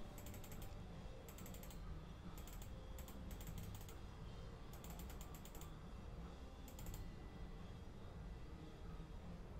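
Computer mouse being clicked during a meditation-themed computer game, producing faint, crisp clicks in quick pairs and short clusters spread across a quiet, steady background hiss.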